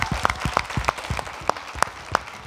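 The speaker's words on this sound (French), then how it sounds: "On peut s'applaudir, les gars." Studio audience on a Burkina Faso television entertainment show applauding, a scattered burst of claps with several sharp individual hand claps standing out, fairly close and without talking.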